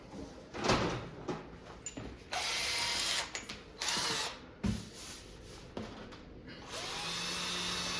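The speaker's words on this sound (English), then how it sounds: "I got to drill a hole so we can drop the drill bit or the router bit into the hole" A power drill whirs in several bursts, boring a hole into a wooden arcade cabinet between pauses, close by and with no one speaking.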